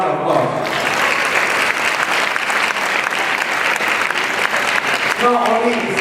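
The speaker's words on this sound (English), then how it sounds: "had to give him another round of applause" A round of applause fills the room at a fundraising dinner, dense and sustained crowd clapping at full volume from start to finish, with a voice briefly breaking in near the end.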